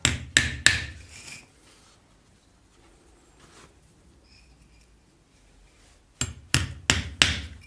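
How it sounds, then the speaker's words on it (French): Nails are hammered into wooden uprights, with sharp hammer blows in quick clusters at the start and again at the end, close and loud, and a quiet pause between. "après on cloue"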